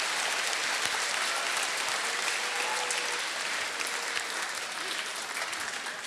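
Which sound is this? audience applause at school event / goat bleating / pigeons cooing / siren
audience applause at school event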